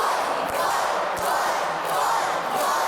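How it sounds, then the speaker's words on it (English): A wrestling arena crowd roars in a frenzy as the champion holds the title belt high, a steady, dense wall of cheering and yelling with a few thuds underneath. "Paul Malen getting the crowd ripped up into a frenzy as Jeff the Rep holds the title up high"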